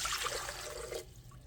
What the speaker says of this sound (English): So we're going to start with 2 cups of warm water